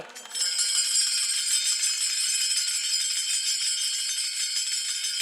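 Taal hand cymbals played at a kirtan in Tandulwadi, a bright, steady metallic jingling that starts abruptly and keeps a dense, even shimmer throughout at close range.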